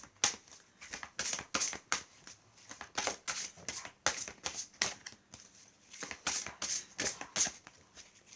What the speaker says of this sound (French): avec mon oracle, je prends une carte d'énergie